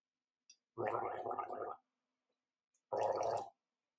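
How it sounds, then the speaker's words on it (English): Two bursts of close, bubbling gargling of EC3 cleaning solution, a longer one followed after a pause by a shorter one, in an otherwise quiet setting. "You can gargle and swallow it down, help the body clear that out."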